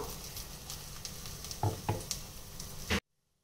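Green chillies, coriander and garlic frying in a pan, a steady close sizzle with a few louder stirring scrapes near the end before it cuts off, no voices.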